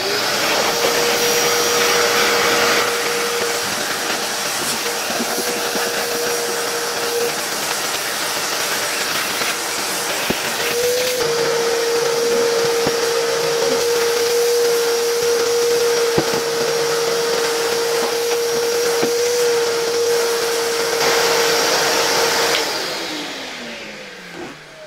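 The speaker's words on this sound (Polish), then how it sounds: "odkurzę też wnętrze tego układu ssącego, bo mam wrażenie, że tutaj coś się dostało do środka" A 1966 Alfa K2 vacuum cleaner with an SK-5b motor runs loud and steady with a whooshing roar and a constant whine, then spins down and fades at the end.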